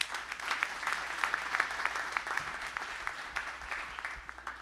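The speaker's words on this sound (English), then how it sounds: "A big round of applause for 10 startups today" Audience at a New York tech meetup at Civic Hall applauds ten startups, steady clapping from a fair-sized crowd with occasional cheers, moderately distant and continuous throughout.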